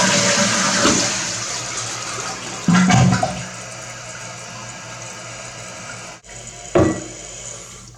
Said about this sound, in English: And now it's time for a good old-fashioned flush.